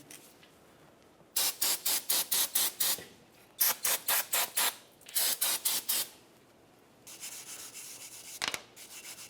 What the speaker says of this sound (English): Parts cleaner.